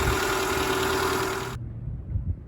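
A Renault Clio engine idling to warm up, a steady mid-pitched hum that cuts off partway through, leaving faint low background rumble.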